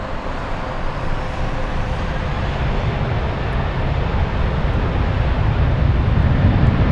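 A Lufthansa airliner departs Frankfurt, its jet engines a loud, steady, broadband roar that holds strong and builds slightly across the seconds without a break.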